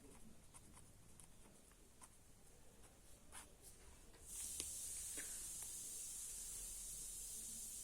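Quiet marker or chalk strokes scratch across a board during a class 11 maths lesson, brief squeaky scrapes followed by a steady hiss of background noise.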